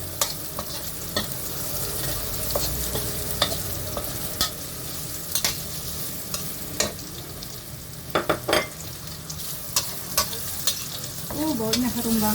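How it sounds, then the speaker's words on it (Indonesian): Onions and carrots stir-fry in a pan with a steady sizzle, broken by repeated scraping clicks of a utensil stirring the vegetables. "Saya masukkan bawang, ditumis sebentar. Masukkan wortel,"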